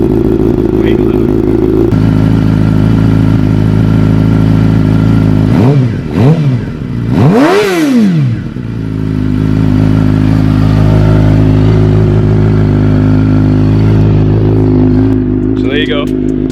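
A 2013 Suzuki GSX-R 750 with an M4 Tech1 full track exhaust idling loudly after a cold start, a steady deep rumble broken by several sharp throttle blips that swoop up and fall back, close and dominant, with people talking faintly under it.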